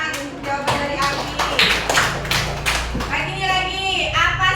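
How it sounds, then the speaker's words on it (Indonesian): Schoolchildren in a classroom clap together for a classmate's answer, a steady patter of many small hands that stays fairly loud throughout the short burst, with faint voices mixed in. "Ayo beri tepuk tangan untuk jawaban dari Ardi."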